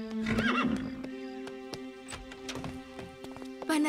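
A cartoon horse neighs in a loud whinny at the start, followed by hollow clip-clop hoof taps and then another whinny at the close, with a music-like tone humming underneath.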